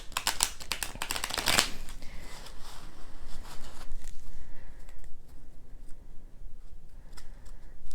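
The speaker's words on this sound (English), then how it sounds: "So then I go ahead and instruct them to shuffle the cards while thinking about their issue." Tarot deck being shuffled close up in a quiet room, a loud riffling burst at first, then softer intermittent card sliding and tapping.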